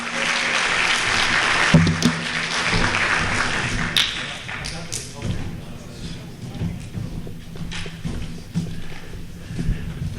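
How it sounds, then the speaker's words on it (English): An astrophysics lecture crowd briefly applauds as the speaker comes up: clapping that is strongest at the start and fades within a few seconds. Footsteps, thumps and scattered taps follow, with a low hum and some talk in the room. "give him a round of applause as he comes up."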